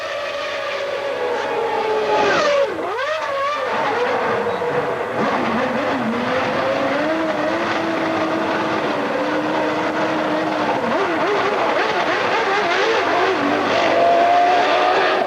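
Formula One race cars run through the pit lane, their high-pitched engines whining and shifting pitch continuously, loud and close, with one car's note dipping sharply as it slows.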